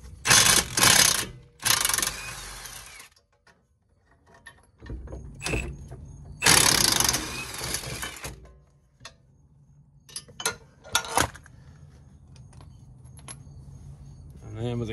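A power tool with an 18mm socket loosens a car's brake caliper bolts in three loud, separate bursts of whirring, rattling noise. Quieter mechanical clatter and handling noise fill the gaps between the bursts.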